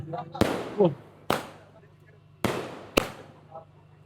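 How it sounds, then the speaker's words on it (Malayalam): Firecrackers burst in a celebration after India's cricket win, four sharp loud cracks spaced a second or so apart with echoing tails, mid-distance, with people talking faintly between blasts. "റഫീഖാനയിൽ വെടിപൊട്ടിച്ച് ആഘോഷിക്കുകയാണ്"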